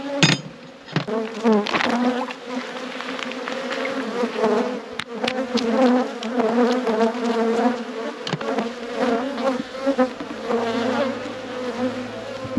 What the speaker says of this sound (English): all the bees are fed, they've got pollen on board